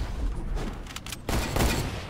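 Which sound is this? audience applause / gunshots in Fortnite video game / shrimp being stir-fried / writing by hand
gunshots in Fortnite video game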